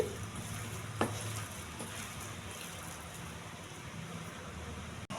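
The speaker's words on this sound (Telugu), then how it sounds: "పచ్చిమిర్చి, అల్లం తురుమండి. ఇది బాగా కలపాలి." A spoon stirs a batter mixed with grated green chilli and ginger, producing a soft, continuous wet swishing that stays fairly quiet and even throughout, with one faint click near the end.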